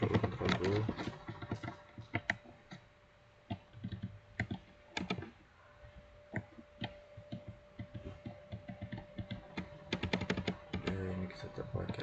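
Keyboard shortcuts tapped on a computer keyboard during host hardening configuration, heard as rapid close clicky keystrokes in bursts and flurries, mixed with brief soft speech.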